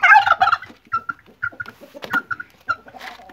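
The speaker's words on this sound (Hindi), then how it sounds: "ये है मेरा टर्की," A pet turkey that roams around a workshop gobbles loudly and close, in rapid bursts followed by several short, clucking calls spaced across a few seconds.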